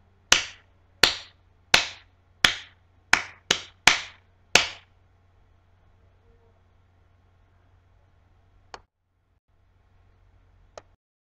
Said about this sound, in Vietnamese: Bây giờ chúng ta vừa đọc vừa vỗ theo tiết tấu.